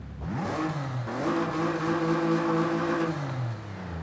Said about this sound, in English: Supercharged V6 always sounds so good.